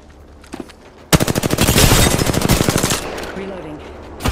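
Automatic weapon fire in the shooter game Apex Legends: a couple of faint early shots, then a loud, rapid burst of evenly spaced rounds lasting about two seconds before it tails off.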